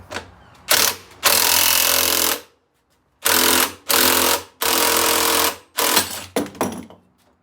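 A power impact tool drives the rod into a flywheel puller bolted to a Polaris Ranger 700 engine during teardown, producing repeated loud, close bursts of buzzing hammering separated by short pauses.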